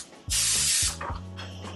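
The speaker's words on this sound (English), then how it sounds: "Spray in your pan." A short, loud hiss of cooking spray bursts into a pan for about half a second, followed by faint kitchen clatter with no talking.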